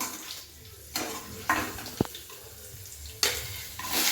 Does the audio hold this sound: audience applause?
no